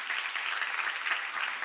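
Church congregation applauding during a seminar on Revelation chapter 1, a brief, dense burst of clapping from many hands, steady and moderately loud.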